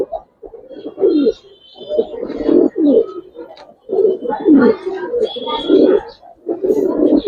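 Pigeons coo repeatedly at a colourful-breed pigeon farm, their soft, low cooing calls coming in overlapping bursts throughout, with people talking nearby.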